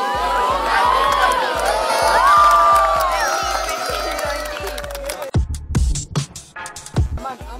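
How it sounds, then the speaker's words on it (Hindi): Audience at a college youth event in Nagpur cheers and claps loudly for a contestant, a steady roar of crowd noise and shouts that drops away sharply after about five seconds into scattered bursts. "अमोल के लिए जोरदार ताली हो जाए"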